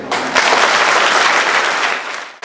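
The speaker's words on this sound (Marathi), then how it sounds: "एकदा जोरदार टाळ्या वाजवूया" An audience at a school event in Maharashtra claps loudly, a dense, sustained roll of applause that fades toward the end before a final sharp knock.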